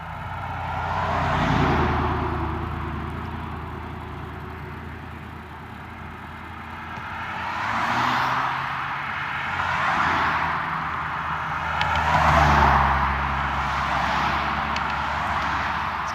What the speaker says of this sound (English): It's pretty steady traffic